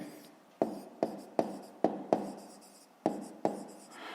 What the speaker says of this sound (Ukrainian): Так і записуємо